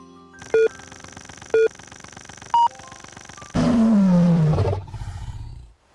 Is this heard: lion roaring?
yes